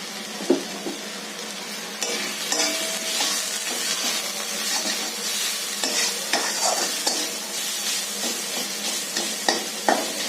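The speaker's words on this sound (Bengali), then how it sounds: "মশলাটা ভাজা ভাজা হয়ে গেছে" Spice paste with turmeric and salt stirred and frying in oil in a pan for tilapia teljhal, a steady close sizzle broken by repeated scraping spoon strokes, no voices.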